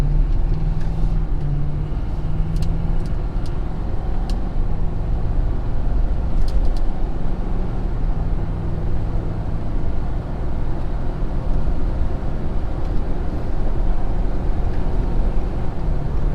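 A 2020 Ford Super Duty truck towing equipment accelerates uphill onto a highway, its engine a steady, loud low drone with a rising tone that fills the whole stretch, no talking over it.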